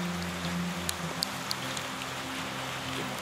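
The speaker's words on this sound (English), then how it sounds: "it's raining again here in Tennessee" Steady rain falls in Tennessee, a soft continuous patter with a few louder drops striking close by, over a low engine-like hum, with no speech.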